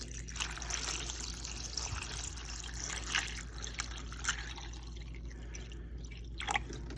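Tap water runs and trickles steadily into a bowl of dried Camellia red beans set for soaking, a soft continuous splashing close by with no talk.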